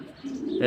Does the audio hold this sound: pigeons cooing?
yes